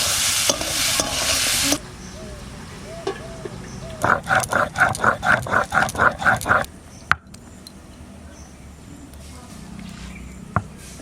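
Potatoes with softened onion and turmeric frying and being stirred in a pan at home, a steady sizzle with a burst of rhythmic scraping strokes in the middle, then a quieter crackle with a few clicks.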